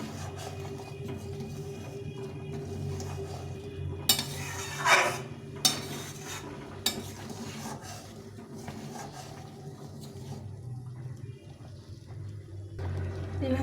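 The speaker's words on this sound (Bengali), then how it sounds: "এই আদা বাটাটা দিয়ে দেবো। দিয়ে এটাকে ভালো করে ঘেটে দিতে হবে।" Dal with ginger paste is stirred in a pot, with a few metallic scrapes and clinks of a utensil against the pot over a low background hum.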